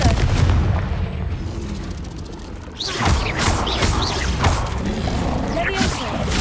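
A Confringo fire spell explodes in Hogwarts Legacy: a quieter rumbling lull breaks into a loud, sharp blast partway through, followed by crackling, crashing debris, with a voice heard alongside.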